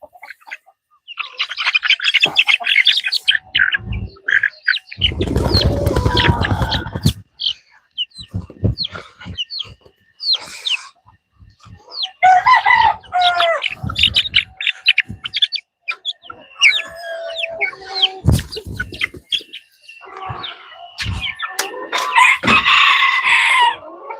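Chickens cluck and chirp in a busy, uneven stream of calls, with a loud burst of crowing partway through and short pauses between flurries.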